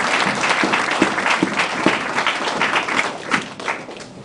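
A church congregation applauding, a dense, close burst of many hands clapping with a few louder individual claps standing out, holding steady and then thinning slightly toward the end.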